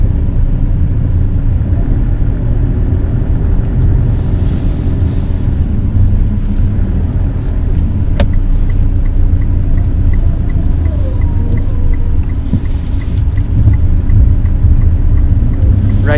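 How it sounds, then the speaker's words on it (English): Mitsubishi Strada 2019 GLS 2WD diesel engine heard from the cabin while driving, a constant low droning rumble with road noise, steady and close with no talking. "Engine noise is typical of a diesel engine,"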